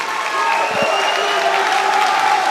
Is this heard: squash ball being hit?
no